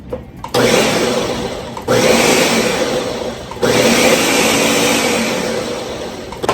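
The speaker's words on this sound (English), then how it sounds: "turn it on my blender, just gonna put it on pulse to start" A blender pulsing cilantro roars in three loud bursts, each pulse starting abruptly and running a couple of seconds, with brief dips between them.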